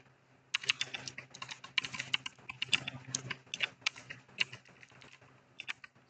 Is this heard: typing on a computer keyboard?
yes